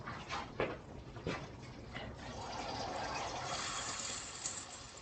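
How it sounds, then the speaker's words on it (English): Mexican cornbread batter sizzles and crackles as it goes into a hot pot, a steady close frying hiss that swells and holds, with a few brief knocks early on. "I think I can hear it cracking in the pot."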